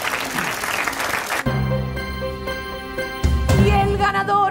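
Studio audience of an Argentine television news program applauds loudly for about a second and a half, then music takes over and continues to the end.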